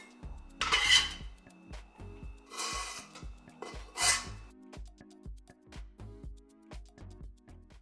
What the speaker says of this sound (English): My fried rice is ready to get plated up.